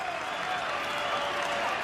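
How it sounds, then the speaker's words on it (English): A huge crowd cheers and applauds at a Red Bull Soapbox race in Paris, a dense continuous wash of clapping and shouting heard from a distance for a brief moment. "cheered on by this huge crowd in Paris today"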